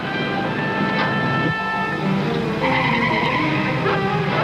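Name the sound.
car skidding before a crash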